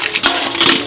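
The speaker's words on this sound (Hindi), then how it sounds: "लाओ हम पानी चला दै छी" Tap water runs while dishes are washed, a brief loud splashing rush with bursts of spray.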